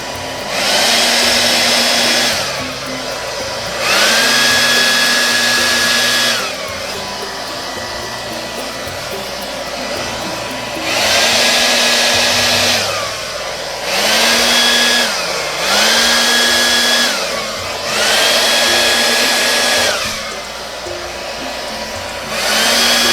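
A handheld air blower set to pulse power pushes acrylic paint across a canvas in a Dutch pour, roaring loudly in repeated bursts of two to three seconds with a whining motor tone and short dips between them.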